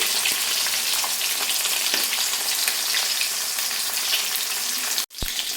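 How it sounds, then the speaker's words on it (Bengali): Rui fish pieces fry in a pan of oil with a loud, continuous crackling sizzle heard up close, ending with a brief sharp clatter. "মাছগুলো একদিকটা সুন্দর করে ভাজা হয়ে গেছে, আরেক দিকটা পাল্টে দিয়েছি"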